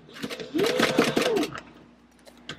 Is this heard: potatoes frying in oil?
no